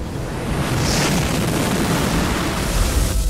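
Eggs burst across the map in the game Creeper World 4, producing a loud, sustained rumbling roar of overlapping explosions with no voices.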